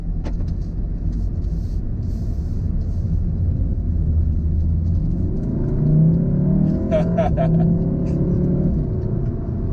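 A 2016 Volkswagen Golf R accelerating hard in race mode, heard from inside the cabin: a loud, continuous engine roar and rumble rising in pitch as it pulls, with a brief voice near the end.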